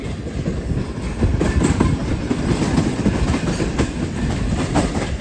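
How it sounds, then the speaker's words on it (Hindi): A train standing at a railway level crossing in India, a long rake overrunning the platform as traffic backs up, rumbling steadily with wagon clatter for the whole stretch, fairly loud and without talk. "फाटक पर ट्रेन खड़ी और पीछे सारा ट्रैफिक जाम है।"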